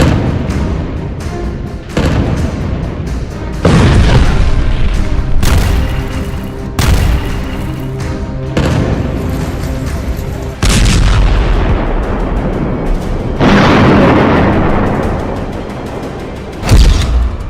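Bombardment in Gaza: a loud series of heavy artillery booms and explosions, each sharp impact followed by a rolling rumble, coming one after another.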